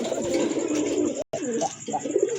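Pigeons coo at a pigeon market where Black Gold Art Changel birds are for sale, a close, continuous low burbling with a momentary break and no talk.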